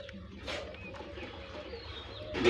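A female pigeon cooing near a person's home, low soft coos with a few brief chirps over a steady background hum.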